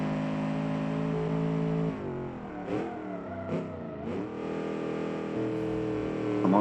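Engine of a Kiev Motors 12 (A23) in BeamNG revs and accelerates through a turn, a steady droning tone that dips and rises again as the throttle opens, with no talk.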